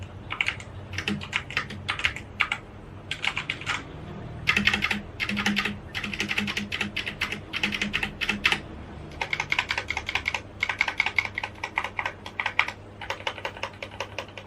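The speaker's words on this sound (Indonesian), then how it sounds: "Untuk suaranya sendiri seperti ini guys." Typing on a Digital Alliance Meca 8s 75% mechanical keyboard, with crisp close-up clacking keystrokes in rapid bursts and brief pauses, alone and steady.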